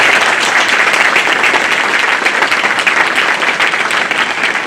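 An audience breaks into loud, sustained applause, a thick wash of many hands clapping evenly and close, with no talking over it.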